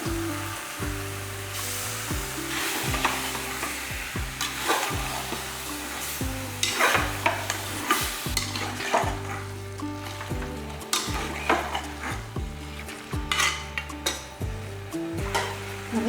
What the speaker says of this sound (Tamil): நம்ம எடுத்து வச்சிருக்க மட்டன் எடுத்து இதில் போட்டுடலாம்